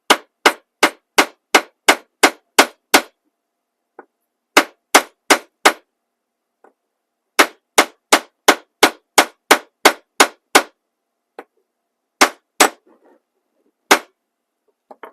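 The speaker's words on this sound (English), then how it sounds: "I'm going to take my household hammer and I'm just going to flatten this puppy." A household hammer flattens a piece of scrap silver on a hard surface, striking in sharp metallic bursts of several quick blows separated by short pauses, loud and close with no talking.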